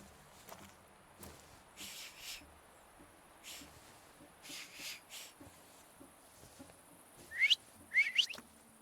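A person whistling a few quick rising and falling notes near the end, preceded by quiet rustles and faint background sounds, soft and without talk.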